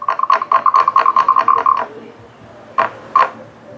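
A carved wooden frog toy, sold at Disney's Animal Kingdom and meant to scare frogs from pools, is stroked to make a fast series of raspy croaks, then two separate, louder single croaks after a pause.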